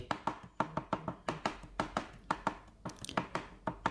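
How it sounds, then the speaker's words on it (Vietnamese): A knife mincing shallots on a cutting board, giving a steady run of sharp, close chopping taps in quick rhythm, about four or five each second, with no talk. "hành tím thì mình đập cho nó dập dập rồi sau đó mình cũng à, băm cho nó nhuyễn nhuyễn ra"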